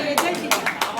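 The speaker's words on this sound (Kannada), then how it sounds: "ಚಪ್ಪಾಳೆ ಚಪ್ಪಾಳೆ" A small group claps in three quick bursts within a second at a school alumni Guruvandana gathering, heard close and fairly loud, with people talking in the background.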